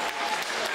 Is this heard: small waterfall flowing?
no